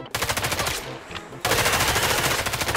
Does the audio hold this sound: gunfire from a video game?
yes